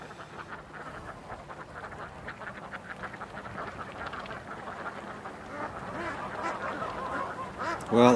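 Ducks quacking in a yard, a steady stream of overlapping quacks at moderate distance that grows a little busier toward the end, with a sudden close burst right at the finish.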